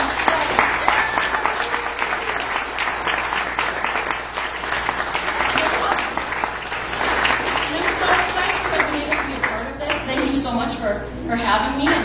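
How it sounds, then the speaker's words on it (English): A live comedy show audience at Wunderkammer applauds the performers, a dense, continuous round of clapping that runs throughout while a speaker keeps talking over it. "I want you to clap for all the other performers tonight"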